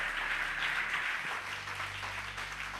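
A church congregation applauding steadily throughout, a dense continuous wash of clapping with a low sustained tone running underneath and no speech over it.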